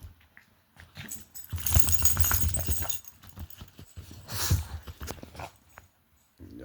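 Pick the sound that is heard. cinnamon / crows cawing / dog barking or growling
dog barking or growling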